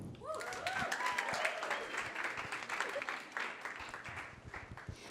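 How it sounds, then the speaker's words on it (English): An audience at an evening event applauds and cheers, with a rising swell of clapping and whoops that trails off, heard fairly quietly and mixed with crowd voices. "I didn't hear as loud of a cheer at the beginning when Nona was up"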